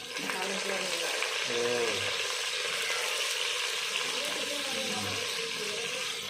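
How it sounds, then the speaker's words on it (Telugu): Sliced onions and green chillies sizzle in hot oil as the tempering for chicken pulusu, a steady bright crackle with occasional stirring and voices talking nearby. "కొంచెం ఉల్లిపాయలు పచ్చిమిర్చి వేస్తున్నారు నూనెలో"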